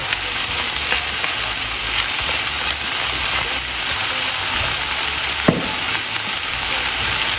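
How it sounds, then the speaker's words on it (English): Mushrooms sizzle steadily in a hot pan, a dense even crackle of frying that runs throughout, with a few stirring clicks and a brief utensil knock near the end. "that's some mushroom right here, which we are cooking off."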